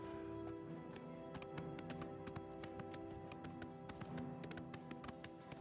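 Horse hooves clip-clopping while riding across open country in the video game Oblivion, a steady run of light taps over a continuous game soundscape.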